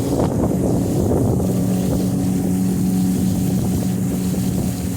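A 2018 Sun Tracker Bass Buggy 18 pontoon boat runs under motor power across open water, with a loud, steady outboard drone and constant wind buffeting, and no voices.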